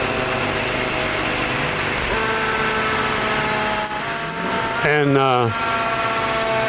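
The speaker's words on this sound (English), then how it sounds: "there's the Tin Shop Fire Department going by" A Tin Shop Fire Department fire truck rolls past in a Christmas parade, its engine rumbling close by, a rising siren-like whine and a brief air-horn blast near the end, with a crowd and a voice speaking over it.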